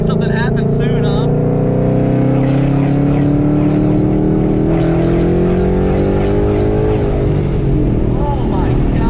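A 722 hp Ford Mustang GT with a supercharger on an 88mm pulley whines loudly and steadily under hard driving, with engine roar and rising tones, as people talk over it inside the car.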